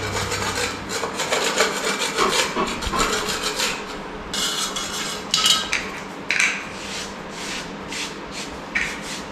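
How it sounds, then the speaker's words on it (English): Raised bits of stone being scraped back before siliconing, a close rough rasping and rubbing that comes in uneven strokes, with several sharper bursts later on and no talk. "I just have to scrape it a wee bit, just these raised bits of stone"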